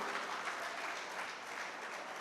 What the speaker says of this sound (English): I request everybody to round of applause to the alumni committee